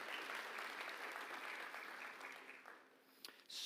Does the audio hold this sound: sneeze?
no